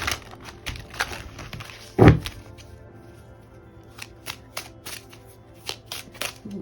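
Tarot cards shuffled close up: a burst of riffling near the start, a loud thump, then a run of light, crisp card flicks and taps.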